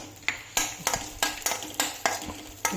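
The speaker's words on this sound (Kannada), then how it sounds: "ಈಗ ನಾವು ಇದೇ ಪ್ಯಾನ್ಗೆ ದ್ರಾಕ್ಷಿ ಹಾಕ್ಕೊಳ್ಳೋಣ." Cashews and raisins frying in a pan, with a spoon stirring and scraping at a steady rhythm of sharp clinks over a faint sizzle, quiet and close, no voices.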